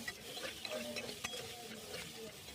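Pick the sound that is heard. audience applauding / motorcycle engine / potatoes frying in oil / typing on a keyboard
potatoes frying in oil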